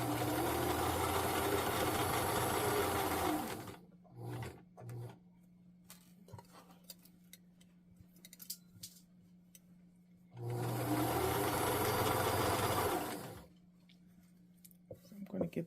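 A home sewing machine runs in two long bursts while stitching a shirt, loud and steady, separated by a quiet stretch with light handling noises and a low hum.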